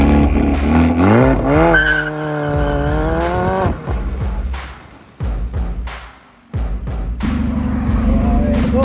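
Kia Picanto Turbo burning its tires, with a loud, strained engine rev climbing in pitch under long tire squeal that cuts off and returns in bursts.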